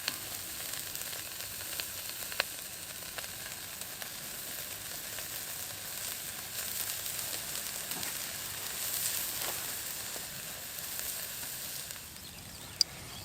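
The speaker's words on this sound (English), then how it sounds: "the flames have literally just died down, so I'm going to go on with the bacon" Bacon sizzling and frying on a grill over a folding titanium wood stove outdoors, a steady close hiss with scattered small pops and crackles continuing throughout, no voices.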